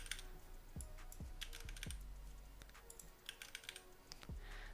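Steady keyboard typing at a computer while entering stats for a golden AK in a weapon editor, with irregular clusters of close key clicks and occasional heavier thuds, no talking.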